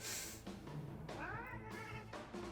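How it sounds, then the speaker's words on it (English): Silver saber cat cubs from Dragon Quest XI give high, gliding mews in a few short bursts, cute and fairly close, set against a steady game music bed with no talking. "aw, the little cat cubs"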